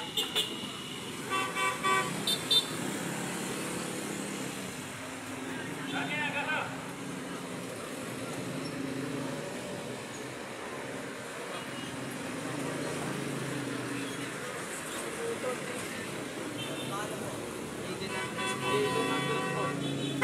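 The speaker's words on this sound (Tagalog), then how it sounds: "Always traffic po dyan sa kabila. Basta ganitong oras, rush hour." Busy road traffic with steady engine rumble and several car horn toots scattered throughout, voices murmuring in the background.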